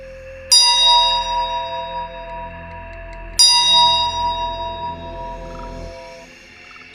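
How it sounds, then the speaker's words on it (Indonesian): A metallic bell in a horror story strikes twice, a few seconds apart, each loud clear ding ringing out with a long shimmering decay over a low dark drone. "Suara lonceng terdengar mendekat."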